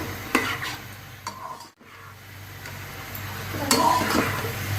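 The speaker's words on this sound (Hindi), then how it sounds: "तो मसाले के साथ अच्छी तरह भूनें।" Vegetable rice stir-fried with spices in a pan: a steady scraping stir with a low background sizzle, a few sharper scrapes and one brief drop-out midway, alone without talk.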